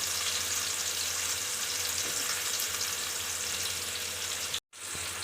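Chopped onions and green chilies frying in a pan for gongura chicken curry, a loud, dense, continuous sizzle close up that cuts out for an instant near the end before resuming.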